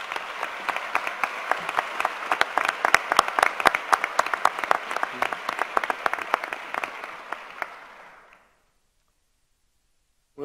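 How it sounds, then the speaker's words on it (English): Sustained audience applause at a medical school white coat ceremony honoring the white coat sponsors, many hands clapping steadily for about eight seconds before stopping abruptly into silence. "Round of applause."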